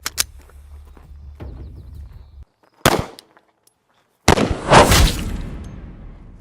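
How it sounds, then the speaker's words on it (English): Glock 17 full-size 9mm handgun firing Norma NATO-spec +P 124 grain ammunition, a few sharp loud gunshot cracks separated by silence, with a longer noisy burst of impact and echo near the end. "Here we have a Glock 17, it's a full-size 9mm handgun, and we have 9mm."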